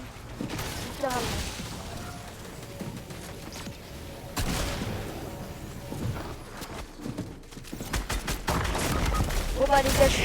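Bursts of gunfire from an online shooter game mix with background game noise and a voice commentating in French, with sharp shot transients recurring through the stretch.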